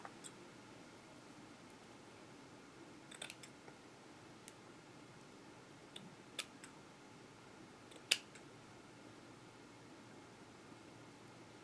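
Scissors cut craft materials for a white winter bunny ornament in shabby chic style, giving sparse, faint snips and clicks spread over a quiet background hiss, with one sharper snip standing out.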